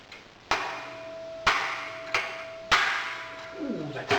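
Hammer striking a sand-cast metal wedge test piece, four sharp ringing blows spaced about a second apart, each leaving a metallic ping that decays, heard close and alone.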